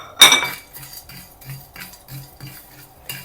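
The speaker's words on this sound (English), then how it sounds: "we are roasting on medium heat so that it doesn't get burnt" Whole garam masala spices dry-roasting together in a pan over medium heat, stirred with a utensil that scrapes and clinks against the metal in a loose repeating rhythm, opening with one sharper knock.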